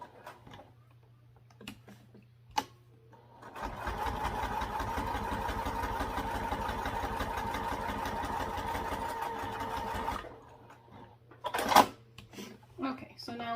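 A sewing machine stitches back and forth over a webbing strap on a sling, a steady rapid mechanical whir for several seconds after brief handling clicks, then stops with fabric rustle.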